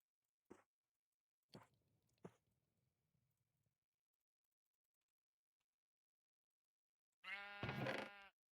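Short harmonic bleat from a sheep in the Minecraft video game, loud and alone after a few soft clicks and quiet rustling earlier.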